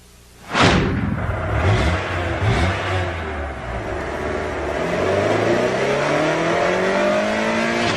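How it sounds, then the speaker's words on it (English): Engine of a 190-horsepower Honda Prelude VTEC in a TV advert: a loud burst at the start, then a strong, rising revving roar building steadily over several seconds, alone with no voice. "Introducing the 190 horsepower Prelude VTEC."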